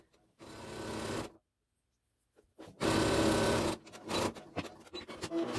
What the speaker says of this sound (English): I'll sew again at a quarter inch so that I'm enclosing that seam allowance within that second seam.